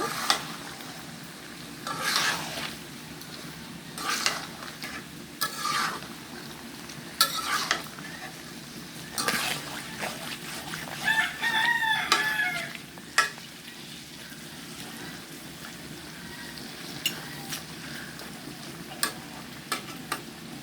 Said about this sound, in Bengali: এখন খুব ভালোভাবে নিয়ে ছেড়ে মশলার সাথে মাংসগুলো ভালোভাবে মিশিয়ে নেব